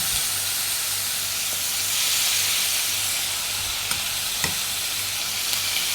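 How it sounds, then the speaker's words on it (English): Chicken sizzles and sears in hot oil in a pot with a constant, loud crackling hiss, with a few faint clinks. "you can hear that sizzle"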